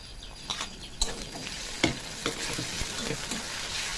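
Green chillies and garlic stir-fry with onions in hot oil, a sizzling hiss punctuated by several scraping stirs and sharp spatula knocks in an uneven rhythm, close and without talk.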